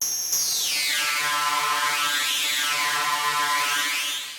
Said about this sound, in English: using some modulation on the crush value to move it back and forth